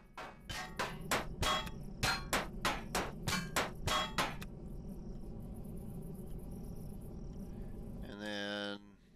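A salvage tool in the space survival game Empyrion fires in a rapid series of about a dozen sharp metallic bursts over a steady low hum, then a brief buzzing tone closes the sequence.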